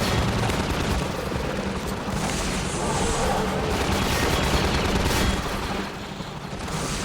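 Dense gunfire from a Garry's Mod Clone Wars roleplay battle, a continuous fusillade of overlapping blaster and gun shots with heavy booms, loud and sustained throughout.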